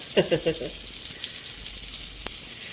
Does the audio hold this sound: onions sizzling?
yes